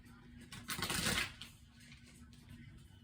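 Fairly fresh tarot cards shuffled by hand in a brief flurry of papery riffling, close and quiet, fading to soft handling noise.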